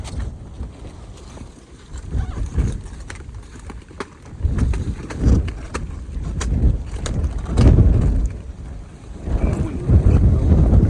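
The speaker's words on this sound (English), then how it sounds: "Wow, it's windy." Strong wind buffets the microphone in heavy, rumbling gusts that rise and fall, with water sloshing faintly underneath, outdoors during a pumpkin harvest.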